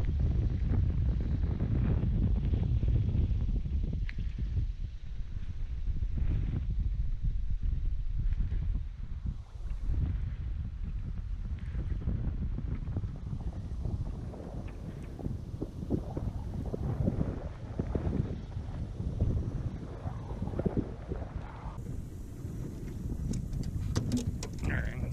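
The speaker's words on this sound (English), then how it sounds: "There's the wind." Wind buffets a small boat out on a bass fishing pond, a steady low roaring rumble of gusts against the microphone that stays loud and unbroken, with faint water and hull noise underneath.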